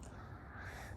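A nearby bird perched on a door gives a caw-like call, heard alone over steady background noise.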